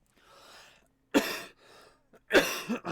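A person coughs and clears their throat indoors, two harsh bursts separated by quieter breathy rasps, close and alone without speech.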